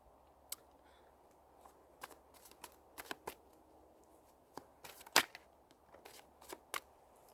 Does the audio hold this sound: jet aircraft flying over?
no